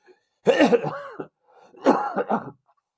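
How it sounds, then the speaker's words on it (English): Two bursts of harsh, raspy coughing, each a cluster of hacks separated by a brief pause, loud and close. "As I cough up a lung."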